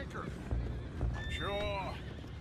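Horses in the Red Dead Redemption 2 video game whinny loudly and close by, one long falling neigh standing out, with hoof clip-clops and speech around it.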